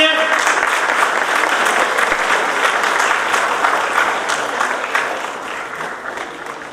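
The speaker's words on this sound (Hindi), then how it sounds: "जोरदार तालियां मनन के लिए" Audience applause at an Ambedkar Jayanti award ceremony, a steady dense clapping that fills the room throughout and fades slightly toward the end.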